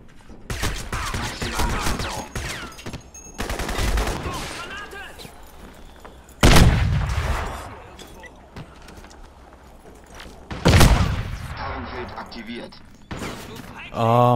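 Gunfire in the first-person shooter Crysis, with two sharp, loud shot bursts standing out midway and near the end over a busy game soundscape, and a voice talking in the first part.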